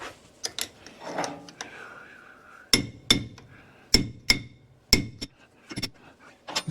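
A hammer strikes a screwdriver used as a chisel in a mechanic's work, giving sharp metallic clinks, single and in pairs, spaced irregularly and close by, with quieter scraping between the blows.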